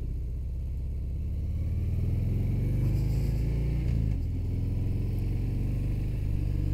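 Harley-Davidson Fat Bob 114 motorcycle idling low and steady with a deep, close engine rumble, a brief dip and clunk midway as it drops into first gear, then a continuous low throb.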